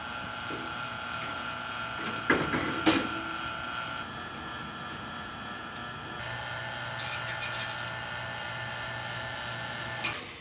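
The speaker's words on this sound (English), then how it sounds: "So I'm gonna go ahead and turn on this pump and let it run for a while" A vacuum pump hooked to a Vintage Air AC system runs with a steady mechanical drone and whine, its tone shifting midway, with a few brief clicks and rattles nearby.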